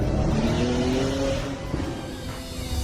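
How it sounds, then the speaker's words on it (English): A developer's real car engine, used for Fortnite's Nitro Drifter, roars loud and steady at high revs, its tone shifting slightly as it runs continuously throughout, with no talk. "With the new Nitro Drifter, they needed a fast engine, so one of the devs offered to record their car."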